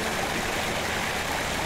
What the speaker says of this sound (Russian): недалеко от Красных пещер, бурлит река Кизилкабинка